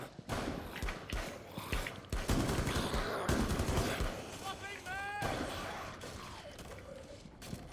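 A light machine gun fires in the Rainbow Six Siege video game: rapid, irregular bursts of gunfire and mechanical clatter play throughout, with a voice talking over the shooting.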